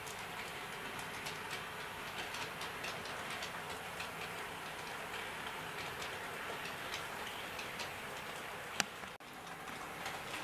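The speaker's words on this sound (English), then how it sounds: "And here's a panorama for you with the tube stock coming round." EFE Rail E Stock model tube train running round a bend on a layout, giving a steady, fairly quiet rolling rumble with faint, rapid clickety ticks throughout and one sharp click near the end.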